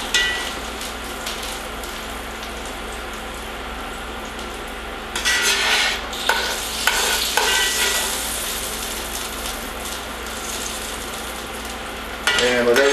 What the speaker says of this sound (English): as soon as you get something out of frying oil, you want to hit it with your salt